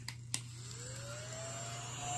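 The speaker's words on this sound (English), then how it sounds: "Look how nicely this little vacuum works." A small handheld vacuum cleaner runs over a rug, giving a faint, steady motor hum with a thin whine that slowly rises in pitch, and a couple of light clicks near the start.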